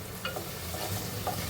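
Onion frying in a pan, a soft, steady sizzle heard close with faint stirring scrapes, brief and quiet with no voices.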